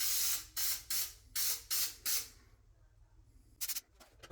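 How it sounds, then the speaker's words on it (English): Watery drywall texture mixture sprays onto a wall in five quick, evenly spaced hissing bursts. After a short quiet gap, two more short bursts follow. "When spraying the texture on the wall, just make sure you do a random spray."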